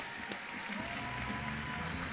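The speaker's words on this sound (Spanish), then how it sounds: "Un fuerte aplauso para ellos." Graduation ceremony audience applauding the new graduates, a broad wash of clapping that swells after a brief opening and continues steadily, with a voice faintly mixed in.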